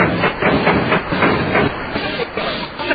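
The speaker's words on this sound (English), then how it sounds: "Start the motor." A car motor turns over and runs as a sound effect in a 1935 radio comedy, a steady loud rattling chug filling the whole stretch with no talk over it.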